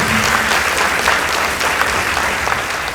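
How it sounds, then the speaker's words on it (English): An audience at a school debate claps for Light Academy, a loud, continuous wash of applause from many hands lasting the whole stretch, with a faint low tone briefly underneath. "Let's give them a round of applause."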